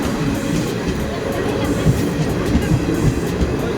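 Train travelling from Surat to Panera, a continuous close rumble of wheels and carriage noise with faint rhythmic clacking over the rails, steady and unbroken throughout.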